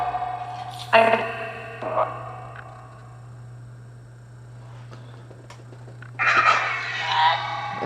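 Necrophonic ghost hunting app output with reverb added, smeared voice-like bursts that ring out and decay, separated by a quieter stretch, over a constant low hum.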